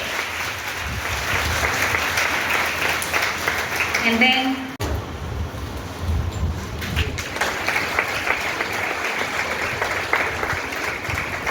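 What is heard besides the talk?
thunderous audience applause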